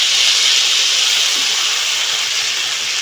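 Loud, steady, close hiss of garam masala paste hitting hot oil in a pan while cooking small fish with Malabar spinach, with no pauses and no talk.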